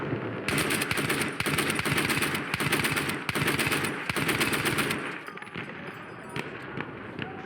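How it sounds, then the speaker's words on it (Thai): A machine gun firing in the multiplayer shooter Battlefield 1: long, loud, rapid bursts of repeated shots for about five seconds, then quieter battlefield noise. "ผมลองใช้ปืนกลตรงนี้ก่อน"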